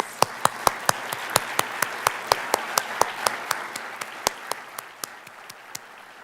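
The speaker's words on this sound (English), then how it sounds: "I think they deserve another round of applause." Audience at a nursing school pinning ceremony applauding, a moderate, fairly distant round of claps with distinct individual hand claps standing out, steady and then thinning.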